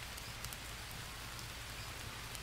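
Steady rainfall in the jungle survival game Green Hell, an even hiss of falling rain filling the scene throughout, with no talking.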